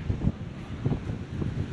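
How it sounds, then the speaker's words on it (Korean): Wind blows steadily at Yangyang Surfyy Beach in Korea, a low continuous rushing buffeting the microphone, with faint surf noise underneath and no talking. "바람 소리 났지?"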